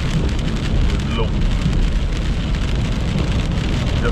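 Steady rain falls continuously in near-freezing November weather, a dense, even hiss of drops on surfaces with no pauses.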